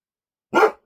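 Single short dog bark, close and loud, sounding alone after silence.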